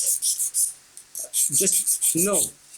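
A file scrapes the bent point of a metal assist fishing hook in short, uneven rasping strokes up close, with brief tonal squeaks between passes and no talking.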